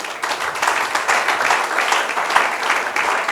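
A church congregation applauds together, with dense, sustained clapping that holds steady throughout at close, loud level.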